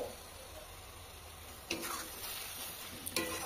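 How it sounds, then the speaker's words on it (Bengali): Tomato paste hits sizzling spices in a pan for a chicken curry: a low steady fry noise flares into two sharper hissing bursts as the paste goes in and is stirred, close up, with no talking. "এবার আমি টমেটো বাটাটা দিয়ে দেব।"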